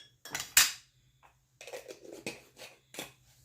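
A tablespoon clinks against a cooking pot and its lid as seasoning goes in: a few sharp metallic taps and scrapes in short, irregular bursts, close and fairly loud.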